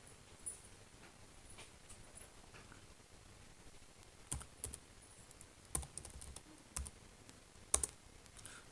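Keys on a computer keyboard are typed in short bursts of quiet, irregular clicks, faint and close, during a Unix shell programming session, with pauses between groups of keystrokes and no talking.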